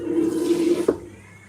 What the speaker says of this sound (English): Let me add more water.